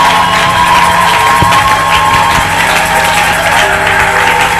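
A church congregation applauds and cheers for Pastor Billy. The clapping is loud, dense and continuous, mixed with scattered shouts and whoops from the crowd.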